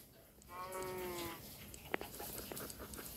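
A lamb and other farm animals in a video game: one clear drawn-out bleat, then a sharp short click and faint scattered animal and game noises at a low level, without speech.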